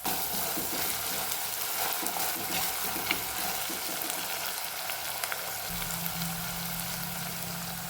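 Crushed garlic and ginger sizzling steadily in hot oil for a Kerala fish curry, a continuous close frying crackle with light stirring throughout and a low hum entering near the end.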